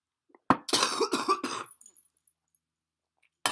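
A burst of harsh, rapid coughing after inhaling smoke, close by, several hacking coughs in a row that trail off into silence.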